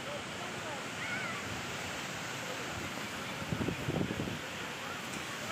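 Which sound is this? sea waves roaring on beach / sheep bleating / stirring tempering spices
sea waves roaring on beach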